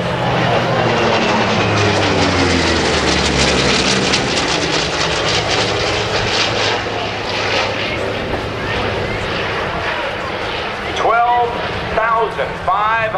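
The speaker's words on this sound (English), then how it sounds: "Over your head, here comes the Corsair." A propeller-driven F4U Corsair warplane passes overhead at an airshow, its loud broad engine roar holding steady throughout with an announcer's voice over it and crowd noise near the end.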